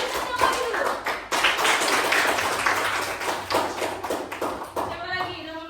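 Students in a classroom break into a burst of applause, dense overlapping clapping that runs for several seconds at close range, with voices mixed in and tapering toward the end.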